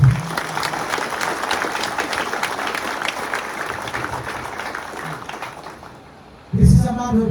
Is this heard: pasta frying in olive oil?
no